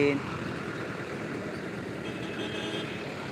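A heavy engine runs steadily with a low rumble amid outdoor background noise, with faint voices mixed in.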